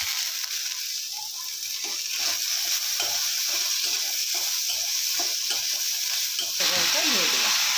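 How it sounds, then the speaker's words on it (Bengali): Chickpeas and curry leaves sizzle in hot oil in a pan while being stirred, for a Bengali shaluk stalk chorchori. A steady bright hiss runs under soft scraping stirs, with a sharper crackling burst near the end. "ছোলা নাড়াটা হালকা করে ভেজে নেবো"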